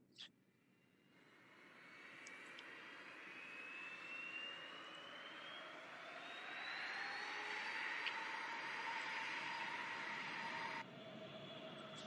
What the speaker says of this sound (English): let's get the engine started up here.